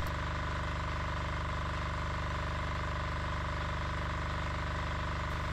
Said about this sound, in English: Now the engine is running on the rapeseed oil